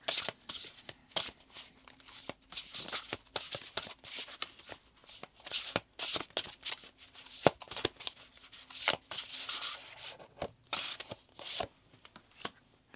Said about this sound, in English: Okay, I'm gonna pull another card.